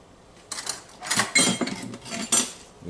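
Fork clinking and scraping against a dish while mixing a salmon pastry filling with onion, a run of close, bright metallic taps and scrapes in uneven bursts.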